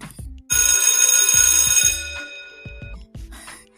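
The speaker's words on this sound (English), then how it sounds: "Did that alarm really shock you?" A loud electronic alarm bell rings for about a second and a half, then stops, with a few soft thuds and knocks around it.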